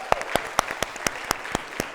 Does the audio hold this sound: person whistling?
no